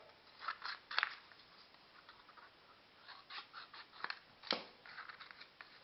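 Scissors cut through gray cardstock in a few faint, close snips and rustles, irregularly spaced with quiet paper handling between them.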